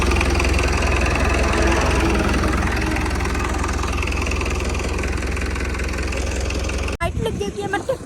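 A tractor engine runs steadily at close range with a continuous low drone, then the sound cuts sharply near the end as other noises take over; voices may be faint in the background.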